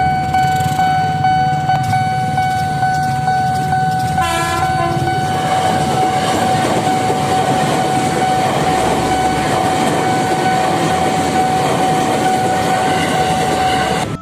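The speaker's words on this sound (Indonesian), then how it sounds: "Ya berhenti dulu, ada kereta mau lewat." A train rumbles past close by for the whole stretch, a sustained horn blaring over the heavy roar of the wheels and cars.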